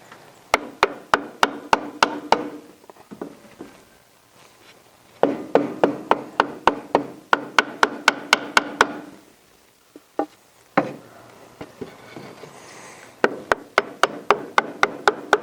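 A hammer taps the corner of a metal grill in quick bursts of ringing blows, pausing between runs, close and loud with sharp repeated strikes.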